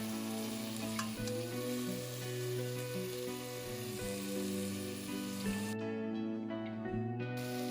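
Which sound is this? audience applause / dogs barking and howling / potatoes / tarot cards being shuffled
potatoes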